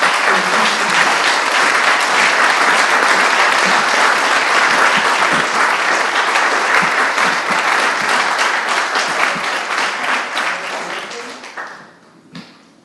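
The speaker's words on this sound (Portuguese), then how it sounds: "Naturalmente, nós recebemos com aplauso." Sustained applause from an audience at the Cola Debrot prize award ceremony in May 2014, dense and steady for most of its length before thinning out and fading near the end.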